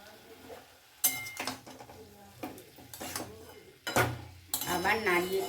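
Fenugreek greens are stirred in a pan, a utensil scraping and clinking against the metal in several separate bursts with short quiet gaps between them.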